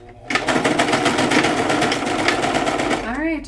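A sewing machine stitches fabric back and forth, a steady, fast, close mechanical whir with rapid needle pulses that starts abruptly and runs continuously before winding down at the end.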